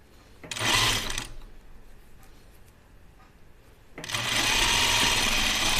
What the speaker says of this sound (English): I'm sewing the waist seam